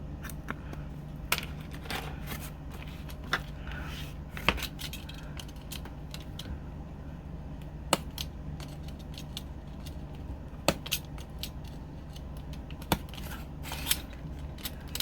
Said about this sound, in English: You just finish it off with your scissors.